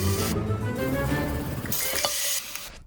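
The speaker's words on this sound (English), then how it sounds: "how the heck are you gonna cook this steak? Portable stove, baby." Steak sizzling and frying on a portable stove, a steady close crackle with stirring clatter and a brief sharp tap near the end.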